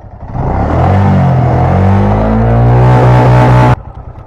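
A motorcycle engine revs up hard and holds a loud, steady roar for about three seconds, then cuts off abruptly, leaving a low idle.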